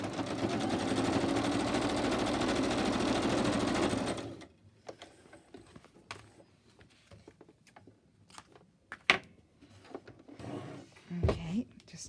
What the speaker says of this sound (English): So bring my sewing machine over. It's very simple, just a quick stitch.